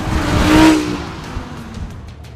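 An Audi R8 V10 Plus sports car drives fast on a racetrack, its engine note swelling loudly over the first second, then settling into a steadier, lower roar with a faint tire whine.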